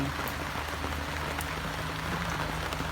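A steady, even hiss of falling rain during a storm, constant throughout with no voices.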